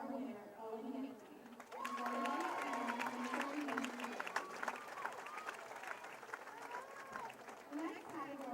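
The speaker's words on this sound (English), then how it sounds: "Please give a round of applause for our winner, Owen Dempsey." Audience applause for an award winner at a high school event, a burst of clapping and crowd noise that swells quickly and holds steady while an announcer's voice and nearby chatter carry on over it.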